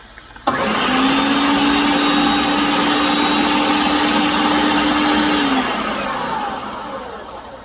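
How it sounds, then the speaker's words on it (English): San Marzano tomatoes crushed in a blender: a loud, steady motor whine starts abruptly and holds for about five seconds before easing off, with no talking. "I am going to crush my San Marzano tomato in the blender, get it ready."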